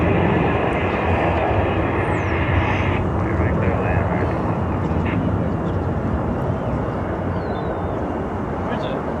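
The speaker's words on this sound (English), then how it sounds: "American Airlines A321 coming in from Seattle," An American Airlines Airbus A321 jet landing at Dallas/Fort Worth Airport, seen from the Founders Plaza observation area, a loud continuous engine roar filling the whole clip, with a voice talking over it.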